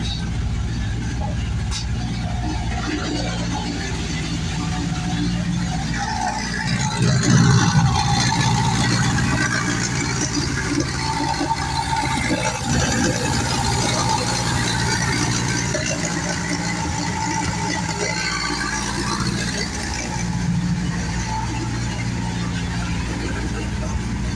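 A Honda K20 engine swapped into a 1994–2001 Acura Integra idles and rumbles continuously with no exhaust fitted, a harsh, unmuffled tone, steady throughout with brief surges.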